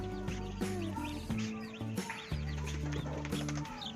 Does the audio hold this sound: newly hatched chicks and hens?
yes